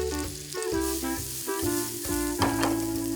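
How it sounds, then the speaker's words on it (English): Shallots fry in rendered bacon fat in a pan, a close, continuous sizzle and crackle with stirring scrapes and small bursts throughout. "the bacon fat is now the fat that we are cooking the shallots in"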